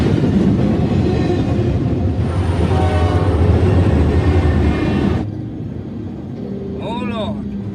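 Train rumbling past a railroad crossing where a car has stopped, a loud sustained roar for about five seconds that then cuts to a quieter backdrop as a short, wavering horn-like tone sounds near the end.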